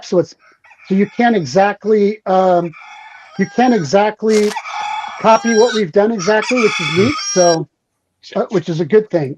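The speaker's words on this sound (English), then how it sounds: "Oh, someone's chicken. That was my alarm." A rooster-crow alarm sound goes off on a phone, a crowing call heard in the middle of the clip beneath a man's continuous, close talking.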